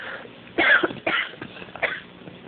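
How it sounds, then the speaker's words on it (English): A person coughs and clears their throat several times in short, rough bursts, close and alone. "Sometimes the coughs just won't stay inside anymore."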